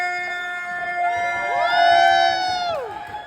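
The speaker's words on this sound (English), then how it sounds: "Give it up for Emily Power" A comedy club audience cheers and whoops with rising, high-pitched shouts swelling to a peak and then fading, fairly close.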